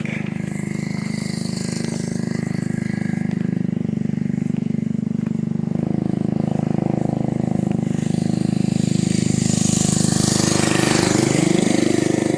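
A loud motorized bicycle engine drones steadily throughout, rising in pitch toward the end as it revs, up close with no pauses.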